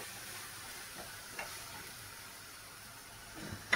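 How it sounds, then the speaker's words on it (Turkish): Quiet, steady sizzle of garlic frying in a pan while mushroom moussaka cooks on a wood-burning stove, with a few soft stirring clicks and scrapes near the end. "Sarımsağı da atacağım şimdi bunun içine."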